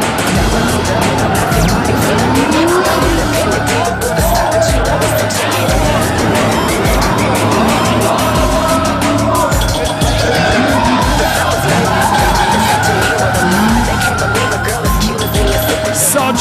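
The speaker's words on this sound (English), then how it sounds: "If drifting is a science, Matt Powers is the professor." Drift car in a Red Bull Drift Shifters run, driven by Matt Powers, with loud continuous engine roar and tire noise sustained throughout, mixed with crowd and commentary-like background.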